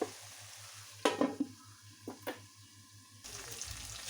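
Chicken biryani being stirred in a pot, with a few distinct scraping, clattering strokes over a steady low hum and a soft sizzle that grows louder near the end.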